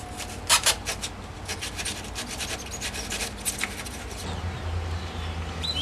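Scratchy rubbing and rasping strokes as crosswise lines are cut into a foam surfboard blank, a run of short, close, fairly loud scrapes that thin out toward the end, with no talk.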